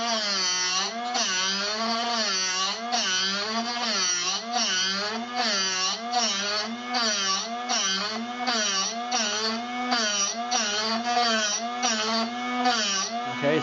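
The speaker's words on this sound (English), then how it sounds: "let's regrind this bit" Drill Doctor 750X sharpener regrinding a drill bit on an aggressive setting, a loud continuous whining grind that rises and falls in a regular rhythm as the bit is rotated against the wheel.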